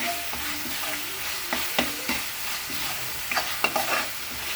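Ginger and onion paste frying in a pan for a jackfruit and drumstick masala curry, a steady close sizzle broken by repeated scraping clicks of a spoon stirring.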